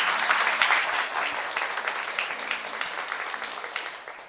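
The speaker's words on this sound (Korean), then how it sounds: "여러분 환영의 큰 박수 부탁드리겠습니다." Welcoming applause from an audience at a talk by a fitness center founder, a steady dense wash of clapping holding at an even level throughout, with no voices over it.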